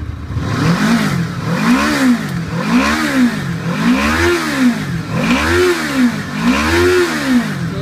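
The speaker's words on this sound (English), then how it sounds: "I'm going to end my video with starting the bike up so you can hear that V4" A 2014 Honda Interceptor V4 motorcycle engine rumbles and revs repeatedly, rising and falling in a steady rhythm of about five throttle blips, loud and close.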